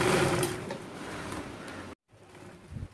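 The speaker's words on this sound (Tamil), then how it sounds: "நல்லா ஸ்ட்ராங்காக இருக்கிறதுக்காக ஒரு 2-3 தையல் வந்து போட்டுக்கோங்க" A sewing machine stitches a kitchen apron with a steady, close mechanical whir for about two seconds. It then stops abruptly, leaving quieter handling sounds.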